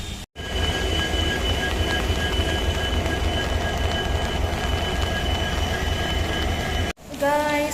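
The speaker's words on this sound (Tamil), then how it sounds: "கைஸ் நாம் ரயில்வே ஸ்டேஷன் வந்தாச்சு" A train rumbles steadily through a Karnataka railway station, a loud continuous roar of rolling wagons with a brief high squeal of wheels near the end.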